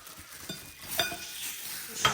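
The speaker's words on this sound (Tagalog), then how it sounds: "Ihalo na natin lahat kasi pare-pareho lang naman yan." Wet ingredients for a banana and peanut butter batter are stirred in a bowl, giving quiet scraping with light clinks of a utensil against the side. The stirring is soft and close, with no talking.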